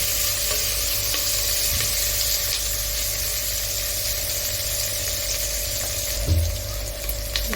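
Food browning in oil in a pan for a chicken curry, giving a continuous loud close sizzle over a low steady hum, with a brief bump of stirring near the end and no voices.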